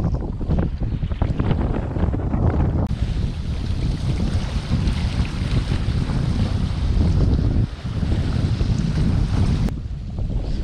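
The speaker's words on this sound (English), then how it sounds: "we're still just sailing into the double reef main, just going real slow here and watching the water" A sailboat under a double-reefed mainsail moves slowly through open water, with steady loud wind buffeting the microphone and constant rushing wash from the hull and waves.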